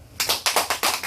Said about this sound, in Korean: 다 같이 박수 드리고